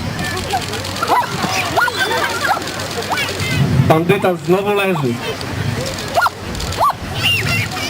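A police dog barks and yips repeatedly in excited bursts, close and loud, while a person speaks briefly over the commotion at an outdoor police festival demonstration.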